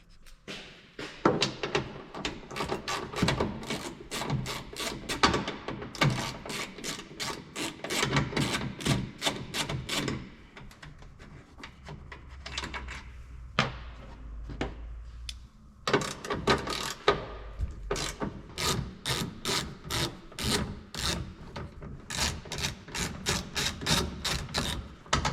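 A socket wrench on a Toyota Tacoma removes the 10mm taillight bolts with rapid ratcheting clicks in long bursts, separated by short pauses, heard close up and without talk.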